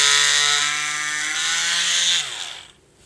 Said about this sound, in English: So afraid that I'm about to break this drill bit.